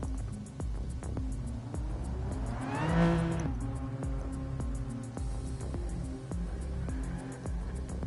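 Gran Turismo 7 race car on a hot lap, the engine droning close and loud through repeated rev climbs and gear changes, with a rising then falling whine near the middle and short tyre squeals.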